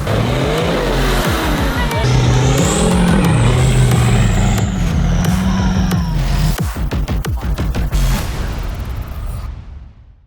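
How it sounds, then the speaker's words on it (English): A 4x4 off-road vehicle's engine revs up loud and close, with pitch rising and falling and a high whine riding over it, then tailing off toward silence at the end. "I'm just gonna idle up."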